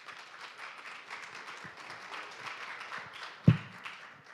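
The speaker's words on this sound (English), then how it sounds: "please welcome him with a big round of applause." Applause from a business summit audience welcoming a speaker, a fairly faint, steady patter of many hands spread across the room, with one sharp thump near the end.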